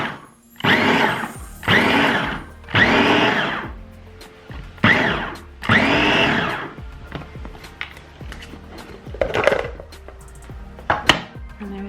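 An electric food chopper whirs through an onion in a series of short bursts, each a loud whine lasting about a second, followed by quieter clicks and handling noises.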